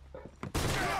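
A single loud gunshot cracks out in Red Dead Redemption 2 at the O'Driscoll hideout, bursting suddenly after a few quiet murmurs and leaving a ringing tail.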